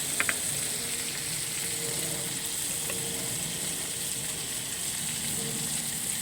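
Cauliflower florets and potatoes frying in a pan give a steady, dense sizzle that runs the whole time, close and even, with a few faint clinks near the start and no talking.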